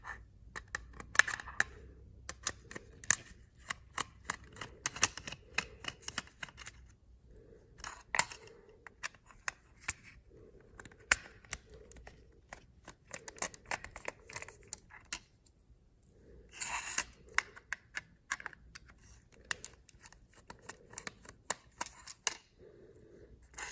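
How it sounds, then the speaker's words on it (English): Small screws being backed out of a Kwikset SmartCode 914 electronic deadbolt, producing quiet, irregular clicking and metallic ticking in short bursts with brief pauses, close by and faint. "So we're going to start with opening these four screws."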